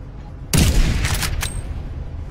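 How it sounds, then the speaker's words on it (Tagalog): Gunfire in an online shooter video game, a sudden loud burst of shots that rings out and then decays over about two seconds, with players chatting nearby. "Gunshot."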